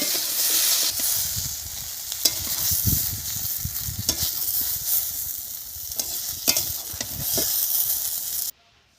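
Eggplant slices fry in hot oil with a continuous close sizzle and hiss, broken by occasional spatters and utensil knocks, until the sound cuts off near the end.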